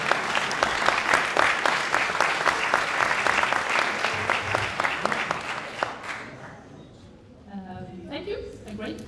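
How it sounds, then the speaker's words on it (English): An audience at a student business pitch event applauds loudly and steadily for about six seconds, then the clapping fades out and a voice starts speaking. "a round of applause"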